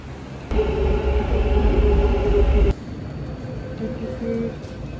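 A metro train rumbles loudly nearby with a steady low mechanical drone and a whining tone for a couple of seconds, then its noise drops away sharply, leaving quieter station ambience with a few faint clanks.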